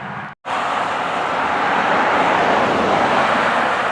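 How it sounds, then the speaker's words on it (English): Heavy road traffic roars steadily and close along a roadside near an Exxon station at the site of the Battle of Boyds Creek. A brief dropout comes at the start, then there is a continuous broadband wash with no talk. "Sorry, we're going to have a little traffic noise here."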